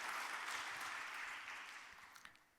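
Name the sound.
church congregation applauding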